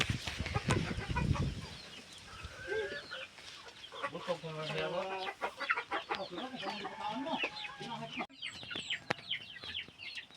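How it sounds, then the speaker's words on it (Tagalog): Several chickens cluck and cackle close by in an uneven, busy chorus, with rustling and a few sharp knocks. "Chicken."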